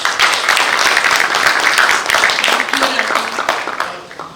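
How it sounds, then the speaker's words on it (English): An audience at a state leadership awards ceremony breaks into applause, a loud, dense burst of clapping that holds steady, then thins and fades near the end while a voice and some murmuring emerge underneath. "Ladies and gentlemen, a good round of applause."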